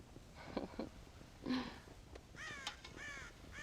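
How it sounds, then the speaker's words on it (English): Crows caw in Red Dead Redemption's farmhouse setting, several harsh calls, scattered at first and then clustered near the end, fairly close, with no talk. "God damn crows!"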